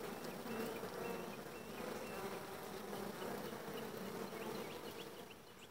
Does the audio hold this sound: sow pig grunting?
no